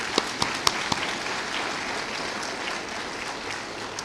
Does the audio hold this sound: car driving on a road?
no